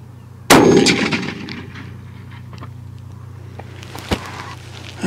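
A rifle built on a custom 7 SAUM action fires outdoors at a range: a single loud sharp report with a long ringing decay, then a second much fainter crack near the end.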